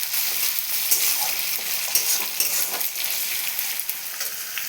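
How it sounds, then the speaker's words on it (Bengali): Chopped tomato fries with onion in a pan, giving a loud, dense sizzle with faint scraping and stirring throughout, close and steady with no voices. "এবার দিয়ে দিলাম টমেটো কুচি, তো টমেটোটাকে একটু ভেজে নিয়ে"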